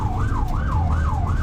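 A loud, close ambulance siren wails in a rapid rising-and-falling pattern over the rumble of the moving ambulance in Gaza.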